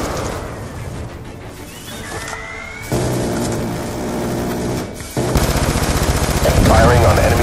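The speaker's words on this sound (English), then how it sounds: "Firing on enemy claw." Automatic gunfire fired on an enemy CLAW robot in the Black Ops 2 campaign: loud, sustained rapid bursts that grow heavier and louder in stages, with radio chatter mixed in.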